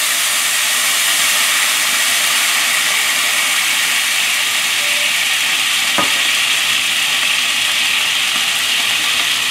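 Gochujang chili paste and cooking wine being stirred in a hot pan, making a loud, constant hissing sizzle with a single sharp scrape partway through.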